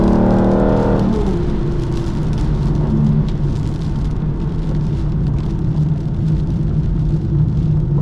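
An Aston Martin DB9 circles a wet track at an easy pace, its engine a loud steady rumble with road and spray noise, a brief higher revving tone dropping away early on.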